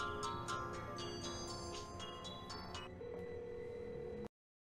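An unanswered telephone rings in a series of evenly spaced electronic bursts, fairly faint and alone, before the tone changes briefly and then cuts off abruptly into silence.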